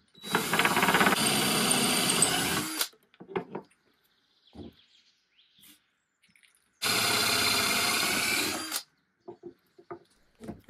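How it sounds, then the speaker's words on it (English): Two long bursts of a high-pitched power drill whining through a wooden board, drilling dowel holes, each a few seconds long, separated by quiet handling clicks and taps. "This handy tool allows you to drill holes in the center of the board"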